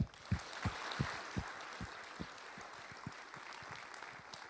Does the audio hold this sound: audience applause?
yes